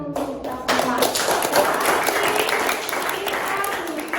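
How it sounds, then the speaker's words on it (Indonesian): A classroom of students claps together after a teacher's prompt during a civics lesson, a near burst of brisk applause that starts abruptly and carries steadily for several seconds, with a voice talking underneath. "Berarti tepuk tangan untuk kita semua."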